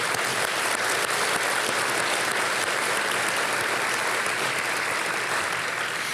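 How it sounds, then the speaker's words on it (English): Sustained applause from a staff luncheon crowd, dense steady clapping at full loudness throughout the whole stretch with no voices over it. "So please join me in a round of applause."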